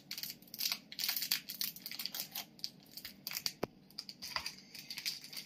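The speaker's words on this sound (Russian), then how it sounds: "Открываем и высыпаем в этот стакан" Close-up crinkling and rustling of a packet of dry cake mix as it is opened and tipped into a cup, with soft gritty pattering of powder, no voices.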